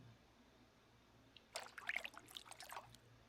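Water is poured into a saucepan holding chopped peaches and sugar, a short splashing trickle that starts after quiet room noise and lasts about two seconds.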